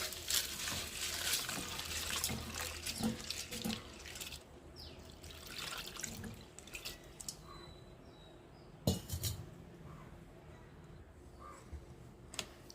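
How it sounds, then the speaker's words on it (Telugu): Flattened rice (atukulu) is rinsed in water in a kitchen, with splashing, pouring and trickling from a tap or vessel, and brief clinks of the container, all without talk. "రెండు మూడు సార్లు శుభ్రంగా అయితే అటుకులు కడుక్కోవాలి"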